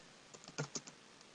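Quick keystrokes on a computer keyboard, with about six light taps in a short uneven burst and two louder clacks in the middle, close and quiet with no voice over them.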